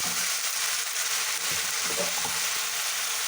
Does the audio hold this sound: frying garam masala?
yes